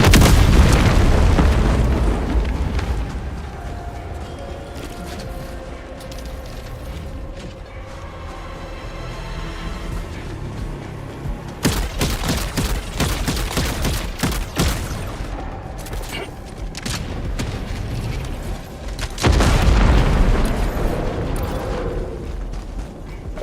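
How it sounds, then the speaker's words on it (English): Orbital strike explosions in Helldivers 2: heavy booming blasts and crackling bursts, with a dense cluster of rapid impacts midway and another loud burst near the end over rumbling mechanical background. "Firing orbital strike."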